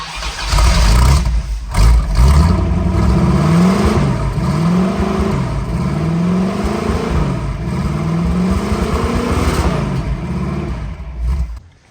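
An old Jensen car's engine fires and runs for the first time in 25 years, loud and close, with repeated rising revs swelling and falling in a steady cycle before cutting off at the end.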